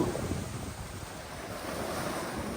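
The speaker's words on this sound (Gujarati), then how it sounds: "પવન ઠંડુ આવે છે" Steady wind rushing past the microphone with a low, continuous roar of surf by the sea at Marine Drive, Mumbai.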